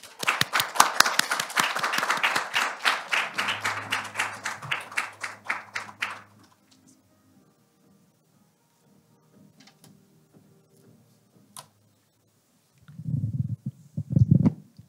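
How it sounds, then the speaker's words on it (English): Rapid clapping from a small group, dense and steady for about six seconds, then dying away into near silence with faint shuffling. "please join me in welcoming Professor Lee with a warm round of applause."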